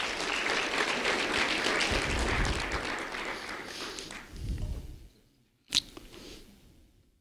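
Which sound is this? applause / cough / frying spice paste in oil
applause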